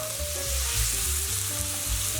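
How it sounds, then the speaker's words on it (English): Chicken sizzles steadily in a hot pan for a chicken pad Thai, with a bright, continuous frying hiss and low stirring clatter underneath. No one talks. "we're going to start by adding in our chicken"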